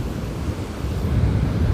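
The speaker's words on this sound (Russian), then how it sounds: "Еще ветер дует, сдувает меня отсюда." Steady wind roaring and buffeting the microphone outdoors on a mountain in the Pamirs, Tajikistan, a continuous low rumble that swells slightly toward the end, with no voices.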